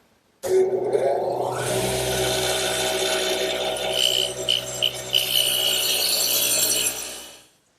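A radial arm saw with a dado head cutter cuts wooden tenons, starting abruptly into a loud, close, steady whine and roaring bite that wavers slightly mid-cut before spinning down and fading out.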